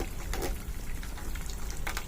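Water flows into a farm field with a soft, steady gushing trickle and a few brief splashy surges. It is faint and continuous.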